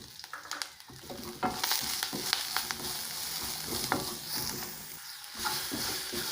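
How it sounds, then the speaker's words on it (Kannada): Finely chopped onions fry in a hot pan being cooked for a radish stir-fry, a moderate close sizzle with irregular stirring scrapes and clicks running the whole time, and no voices. "ಈರುಳ್ಳಿ ಫ್ರೈ ಆಗಿದೆ, ಸ್ವಲ್ಪ ಹಸಿ ವಾಸನೆ ಹಾಕೋ ತನಕ ಫ್ರೈ ಮಾಡಬೇಕು."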